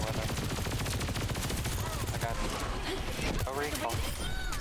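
Rapid gunfire in the Overwatch video game, a dense continuous stream of shots under loud game noise, with players talking over it.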